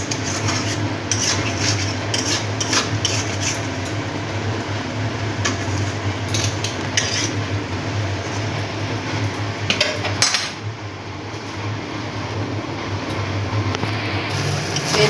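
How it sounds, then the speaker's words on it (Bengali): Paneer and spices being stirred and fried in a pan, with steady scraping and clinking of a utensil against the pan over a constant low cooking hiss, close and moderately loud throughout. "তারপরে একটু একটু করে কষাতে হবে এটাকে"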